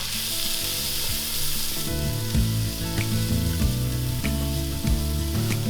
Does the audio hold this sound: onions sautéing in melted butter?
yes